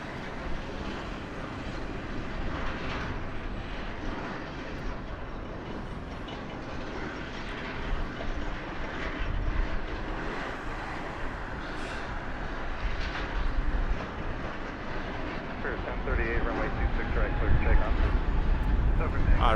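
Airplane approaching Las Vegas Harry Reid International Airport, a distant jet roar swelling gradually louder toward the end amid outdoor ambience and occasional talk.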